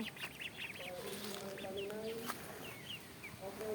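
Ducks quacking and chickens clucking together in a busy, fairly faint yard chorus, with scattered calls overlapping.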